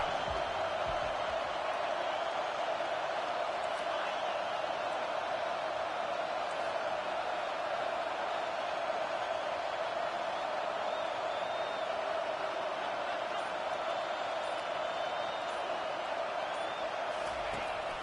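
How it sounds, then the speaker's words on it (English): A loud, steady stadium crowd roar rises during an LSU vs Alabama college football game as fans try to force a fourth-down stop, the dense noise unbroken for the whole stretch. "This crowd busting the decibel meter and trying to will a fourth down stop."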